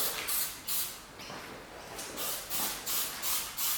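Light coats of spray paint go onto custom headlight parts for a VF Commodore, a series of close hissing bursts of aerosol spray, each lasting under a second with brief gaps between them.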